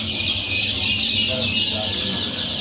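Day-old Peking Star ducklings in a hatchery give a dense, continuous chorus of high, shrill peeping from many birds at once, steady and close throughout.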